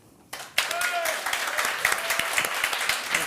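Studio audience applauding as a vote for the blue team's beaver on a French game show, dense clapping that starts abruptly and holds steady and loud throughout.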